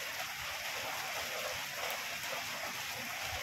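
Rain keeps falling beside the flooded Marikina river as a steady, dense hiss that never lets up, with no voices.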